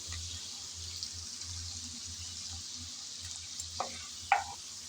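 Prawns frying in oil, a soft steady sizzle at low level with a low rhythmic hum beneath and a couple of brief utensil clinks near the end.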